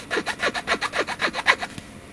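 Rubbing across the heavily sculpted light gray plastic cape of a Marvel Legends MCU Moon Knight action figure gives a run of about nine close, rhythmic scratchy strokes, each a short rasp like light sawing, with no talk.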